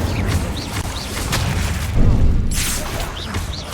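Spell blasts from the Hogwarts Legacy video game, a dense run of booming, crackling magical bursts over a steady rumbling bed, with a brighter whooshing swell near the end.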